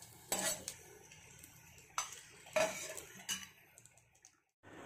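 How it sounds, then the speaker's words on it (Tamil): Raisins fry in a pan and are stirred with a metal spoon, giving sharp scraping clinks and taps over a low, faint sizzle, close and fairly quiet. "இப்போது நம்ம உலர் திராட்சை போட்டுக்கலாம். இதையும் ஃப்ரை பண்ணி தனியாக எடுத்துக்கலாங்க."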